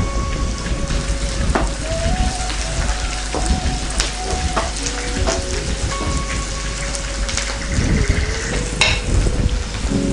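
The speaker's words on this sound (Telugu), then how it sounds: "కొద్దిగా కరివేపాకు కూడా వేసుకుంటున్నానండి." Curry leaves sizzling in hot oil, a loud dense crackling spatter that runs steadily throughout with sharp pops scattered through it, close up.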